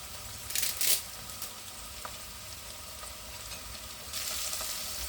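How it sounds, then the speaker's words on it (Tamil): Curry leaves sautéing in hot oil for a fish rice dish. A soft, steady frying sizzle with a couple of brief louder crackling bursts, heard alone. "கொஞ்சம் நல்லா முக்கால் பதம் வதங்கட்டும்"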